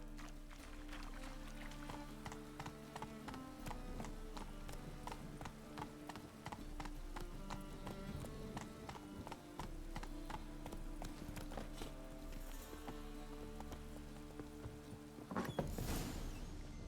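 Roach, Geralt's horse in The Witcher 3, galloping with rapid rhythmic hoof clip-clops at close range, steady throughout over a low droning background, with a brief swell of noise near the end.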